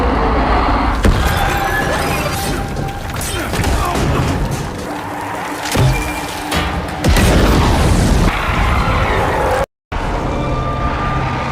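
A blast shot goes off in a tense film scene, a loud booming explosion with crashing impacts and dense rumbling effects that fill the whole stretch, broken by a brief cut to silence near the end.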